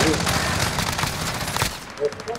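Rapid machine gun fire rattles through a Call of Duty Warzone match as dense, continuous bursts, with players' voices cutting in near the end.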